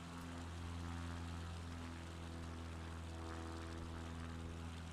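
Steady drone of a propeller plane engine in Microsoft Flight Simulator, flying over Maui, a low constant hum with harmonic tones holding evenly, faint and uninterrupted.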